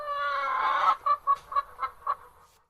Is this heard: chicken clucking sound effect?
yes